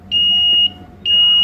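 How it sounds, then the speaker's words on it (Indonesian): A buzzer on a tugboat's bilge alarm panel sounds during a test: two loud, steady high-pitched beeps, each about half a second long, separated by a short pause over a low background hum. "Buzzer bekerja."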